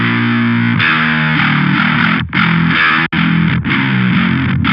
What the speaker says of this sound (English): Some kind of fuzz or saturation is definitely a good effect for this kind of sound.